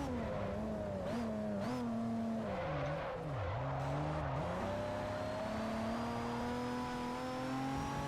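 Race car drifting in the Forza Motorsport 4 video game, a loud engine whine rising and dipping as the car slides through a corner, with brief tire squeal near the start and a steady drone afterward, no talk.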